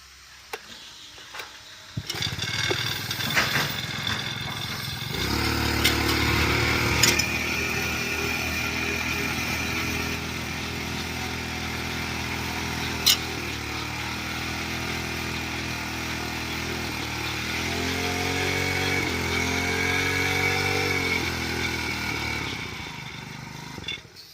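A 5-row paddy weeder's small engine starts with a few sputters, then runs at a steady loud drone for about twenty seconds, rising slightly in revs near the end, with no talking over it.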